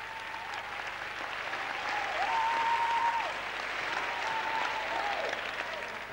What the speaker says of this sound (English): I thought you were going to clap your hand.